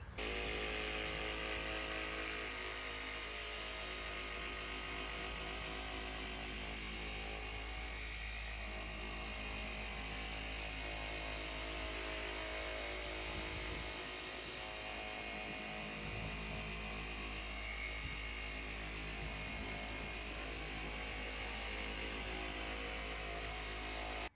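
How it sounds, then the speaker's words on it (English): Cordless polisher with an orange pad running steadily on the paint of an Audi S5, a continuous faint whirring hum with no breaks across the whole stretch. "Our 3D speed here, which is gonna be our paint enhancement product, as well as a orange pad with our cordless polisher here"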